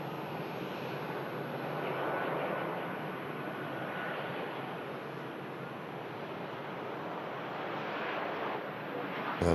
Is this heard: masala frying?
no